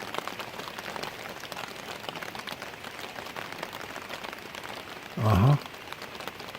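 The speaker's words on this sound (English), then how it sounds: "The rain's starting to pick up." Rain falls during a thunderstorm on a backpacking trip in Kentucky's Red River Gorge, a soft, steady patter throughout, briefly interrupted near the end by a short spoken reply.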